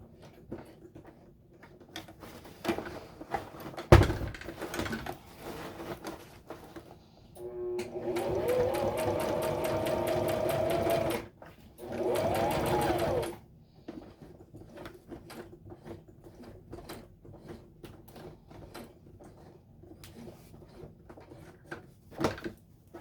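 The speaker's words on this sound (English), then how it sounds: "Only you have to see that you're not sewing through multiple layers." A sewing machine stitching a tote bag runs in two steady bursts of several seconds each, separated by a short pause, with quiet handling clicks and fabric rustle before and after.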